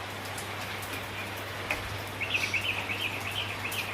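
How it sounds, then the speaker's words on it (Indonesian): Light drizzle falls steadily on a Friday afternoon, a soft even hiss with faint patters, while a bird chirps a quick twittering run in the second half. "Ini rintik-rintik lagi."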